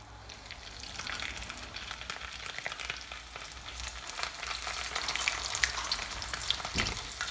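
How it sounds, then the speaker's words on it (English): Chicken rolled tacos crackle and sizzle steadily in a deep fryer, a dense bubbling hiss with scattered pops that swells slightly toward the end, with no one talking. "Now we're going to throw them in the fryer."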